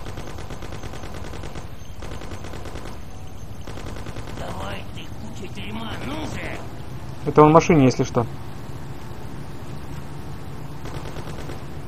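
Bursts of gunfire hit boat engines in the video game Mafia: The City of Lost Heaven, rapid repeated shots in several runs under steady engine drone, while someone talks over the action.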